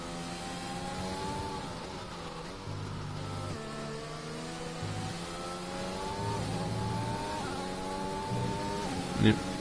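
McLaren race car engine in a racing game, a sustained high revving whine climbing through gears and fluctuating in pitch, loud and close, with a commentator's voice talking over it.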